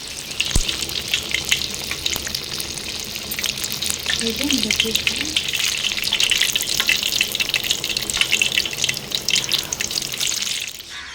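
Chili bajji fritters deep-fry in hot oil with a dense, continuous bubbling sizzle lasting throughout, close and loud, with a brief knock near the start and a faint clink midway; no one talks.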